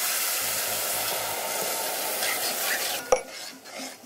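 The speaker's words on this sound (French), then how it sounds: "On va ajouter la semoule qu'on va torréfier dans le beurre." Semolina toasting in butter in a pan, a steady close sizzle with rhythmic stirring scrapes, ending in a sharp clink of the utensil against the pan.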